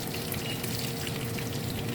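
Fish frying in a pan of hot oil, a steady dense crackling sizzle that stays loud and close from start to end with no talking.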